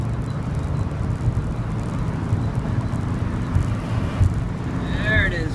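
A Chevrolet Corvair Greenbrier engine roars steadily at full throttle while accelerating, a loud continuous low drone with faint wind noise throughout and no clear talking.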